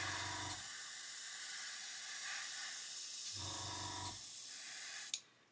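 Airbrush spraying paint onto a scale model, a steady fine hiss throughout, with the compressor's low throb starting and stopping in two bursts and a short click at the end.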